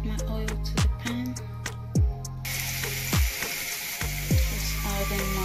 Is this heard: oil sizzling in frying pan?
yes